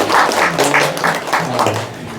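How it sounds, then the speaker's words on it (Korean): Brief applause for a county education superintendent at a Korean scholarly recitation and academic gathering, a short burst of clapping with some room noise. "교육장님 박수 한번 받으세요."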